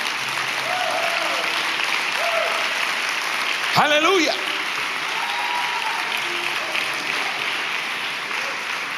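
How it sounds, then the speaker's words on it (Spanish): Church congregation applauding steadily throughout at a worship retreat, broad sustained clapping with a voice calling out briefly near the middle. "Dale un aplauso al Rey bendito."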